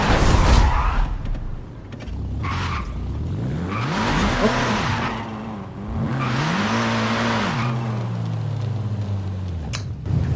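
Nissan Z sports car drifting under handbrake in a Forza racing game: engine note revving and shifting with tire squeal and skidding through sliding turns, loud and continuous, with a brief sharp click near the end.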